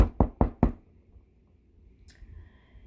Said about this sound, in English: Then came the sound of another knock on the door.